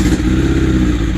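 A Suzuki DRZ motorcycle engine fitted with an FCR 39 carburetor revs up briefly, a loud close burst of rough, uneven intake and exhaust roar with no talk.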